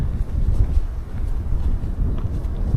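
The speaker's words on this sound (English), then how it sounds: "It's a bit windy today" Strong wind rumbles and buffets the microphone constantly during a late-afternoon walk in wetlands, loud and unbroken with no voices.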